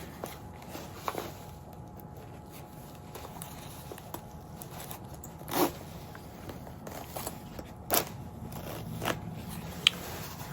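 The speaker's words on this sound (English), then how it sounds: "Now, I'll just double check that they zip up" YKK Vislon plastic-tooth zipper on a jacket with two-way sliders, zipped up in a quiet room: soft low rasping runs through the clip, with a few sharp clicks and snaps from the sliders and pull tabs.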